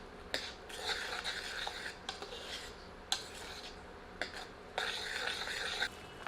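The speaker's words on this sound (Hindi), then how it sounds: "अब प्याज को मध्यम आंच पर भूनते रहते हैं जब तक कि यह सुनहरी नहीं हो जाती।" Ground onion with red chilies fries over medium heat in a pot for a Kadaknath black chicken masala, giving bursts of steady sizzle and scraping stirs that pause and return, close and fairly quiet.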